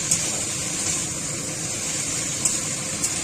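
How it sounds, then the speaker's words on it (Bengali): A kitchen chimney exhaust hood runs with a steady, loud broadband whoosh and a strong high hiss, a continuous mechanical drone with a couple of faint clicks near the end and no talking. "এখন যে শব্দটা শুনতে পাচ্ছেন এটা হচ্ছে আমাদের চিমনির শব্দ"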